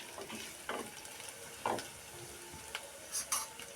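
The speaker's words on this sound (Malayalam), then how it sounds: "ഉപ്പ് ചേർത്ത് മൊരിയട്ടെ" Ginger curry frying in a pan just after salt goes in, a low steady sizzle broken by several distinct scraping stirs of a spoon against the pan, close up and without voices.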